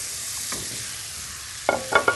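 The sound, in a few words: veal searing in hot frying pan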